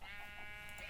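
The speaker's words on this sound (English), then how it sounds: "Hey sheep, need your wool please" Sheep bleating in Minecraft, a single sustained nasal call with a steady harmonic tone lasting the whole moment, close and clear.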